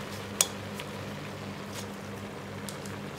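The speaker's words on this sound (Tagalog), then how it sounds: "Dadagdag tayo ng kunting tubig para lang sa saluyo." Water pours steadily into a cooking pan, with one brief metallic clink near the start over a low background hum.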